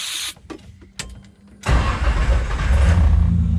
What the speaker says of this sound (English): Car fires straight up without a worry in the world.